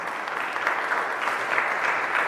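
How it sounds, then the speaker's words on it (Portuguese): Congregation applauding together at a Pentecost novena preaching, a steady dense clapping wash that holds for the whole stretch with no voices on top. "Vamos aplaudir essa verdade."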